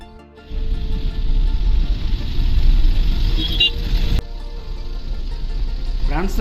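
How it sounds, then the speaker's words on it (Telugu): Traffic jam on the Hyderabad-Vijayawada road: a steady low rumble of idling car and truck engines close by, broadband and unbroken, with a brief rising sound near the end. "చూడండి, ఈ రోడ్లో కూడా మొత్తం ట్రాఫిక్ జామ్ అయిపోయింది."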